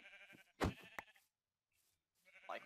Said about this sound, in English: what's with the amount of sheep on this island?